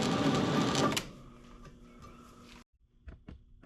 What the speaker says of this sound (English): I'm just going to countersink these just a little bit, just to take the sharp edge off.